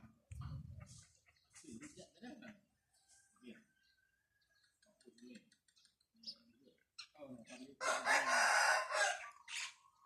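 Chickens and a rooster at a rural house, with clucks early on and a loud, drawn-out crow near the end rising over quieter background sounds.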